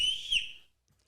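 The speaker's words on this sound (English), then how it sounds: "me and Troy whistle at each other" A high, piercing whistle signals drinking time among friends, a single sustained note that rises briefly before fading out within a second, with faint low rumble beneath.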